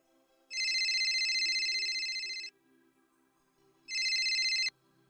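A phone ringtone chimes in two long, loud electronic bursts separated by a pause, over quiet room tone, as a call is placed in an Assamese short film.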